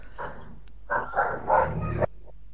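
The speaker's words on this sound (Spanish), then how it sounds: "tengo un perro que está ladre y ladre y no me deja" A dog barks in two muffled bursts, a short yap followed by a longer string of rough barks, moderately loud against a steady background hum with no clear speech.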